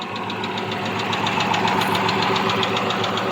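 A repaired Dodge Charger engine runs steadily at idle up close after a blown-fuse no-start fault was fixed, giving a continuous mechanical drone with a quick, even ticking pulse throughout and no talking.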